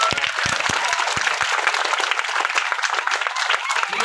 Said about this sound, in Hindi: एक बार जोरदार तालियां मैया के लिए बजा दो।